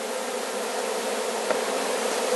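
A swarm of honeybees being hived and gently brushed along, giving a steady, dense buzzing drone close by that holds even throughout with no voices.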